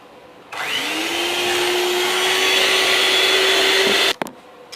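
An electric mixer whirs steadily for about four seconds through apple cake batter with sugar, vanilla sugar and baking powder, then cuts off abruptly with a brief clatter.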